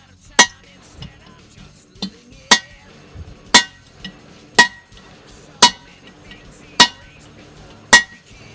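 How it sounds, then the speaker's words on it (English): Big hammer striking metal during a 1982 Corvette restoration, eight sharp, loud ringing blows spaced roughly a second apart, close by, with faint background noise between hits. "I guess I'll try the big hammer."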